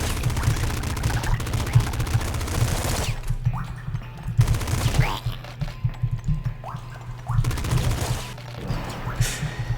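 Rapid shotgun and automatic gunfire from the top-down shooter video game Nuclear Throne, loud dense bursts of repeated blasts with brief pauses, sharp chirping effects and a steady low game tone throughout.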